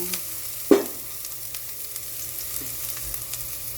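Oil sizzles and crackles steadily in a pan as ginger and garlic fry, with a clank of a utensil stirring near the start.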